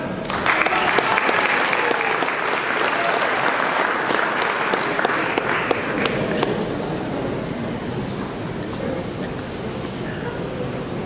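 A banquet audience at a Cadillac LaSalle Club automobile awards night claps loudly and continuously, the dense applause easing slightly toward the end.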